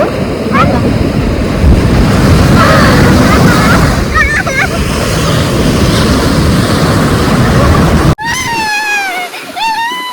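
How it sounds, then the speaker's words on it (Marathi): Loud, continuous surf of big sea waves crashing onto a beach, with wind rushing over the microphone and voices calling out; near the end the roar drops abruptly and speech comes through more clearly. "मोठी लाट आली"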